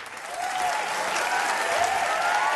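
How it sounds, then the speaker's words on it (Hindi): Loud, sustained applause from a comedy show audience builds quickly and holds steady, with a faint musical tone running beneath. "इनके लिए भी जोरदार तालियां"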